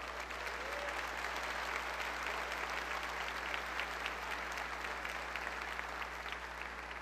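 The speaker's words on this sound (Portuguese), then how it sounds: "Pode aplaudir o Senhor." A church congregation at a Baptist worship service applauds steadily, a dense, even wash of many hands clapping at moderate distance for several seconds without pause.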